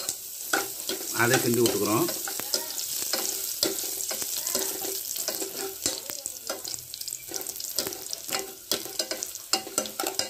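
Onions sauté in a hot pan for murunga keerai (drumstick leaf) soup, with a steady close sizzle broken by scraping stir strokes, louder early on and then crackling on.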